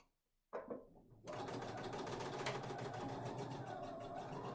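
A sewing machine stitches quilt block pieces with a 1/4 inch presser foot, starting after a short pause with a brief burst, then running in a steady, fast, continuous whir close by.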